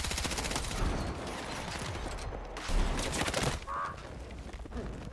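Rapid bursts of gunfire and booming blasts echo through a hallway on Hagental in Battlefield 6, a continuous dense barrage of overlapping shots at close range with a heavier thump midway.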